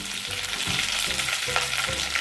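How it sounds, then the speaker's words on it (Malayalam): Curry leaves crackle and sizzle in hot oil in a pan for a potato curry, a dense, steady frying hiss with faint stirring scrapes, close up, with no voices. "അപ്പോൾ ഇതിലേക്ക് കറിവേപ്പില ഇട്ട് കൊടുക്കാം."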